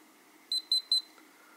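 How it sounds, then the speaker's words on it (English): A Hawkeye Firefly2 micro action camera gives three short, evenly spaced high-pitched electronic beeps at power-on, close and clear over near silence. "Three beeps, and you're turned on here."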